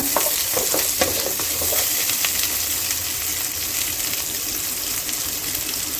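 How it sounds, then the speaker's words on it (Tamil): Finely chopped onions sizzle steadily in hot oil in a pan, with occasional scraping and stirring strokes, for a squid curry. The frying is loud, close and continuous, with no talk. "வெங்காயத்தை பொடி பொடியாக கட் பண்ணி வச்சுருக்கேன். இதை ஆட் பண்ணிக்கிங்க. இதை நல்லா ஃப்ரை பண்ணிக்கிங்க."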